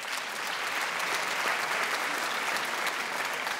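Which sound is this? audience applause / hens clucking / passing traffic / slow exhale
audience applause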